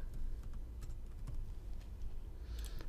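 Computer keyboard keys are tapped in short, scattered bursts while data is entered into an Excel spreadsheet, light clicks sitting over a steady low background hum.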